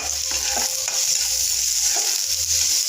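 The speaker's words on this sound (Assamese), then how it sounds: "এইখিনি মই 1 মিনিটমান সময় ভাজি ল'ম, কাৰণ আদা নহৰু কেঁচা গোন্ধটো যাব লাগিব" Ginger garlic paste and green chillies frying in a pan, a continuous bright sizzle with a low bubbling undertone and a few stirring scrapes, close up with no talk.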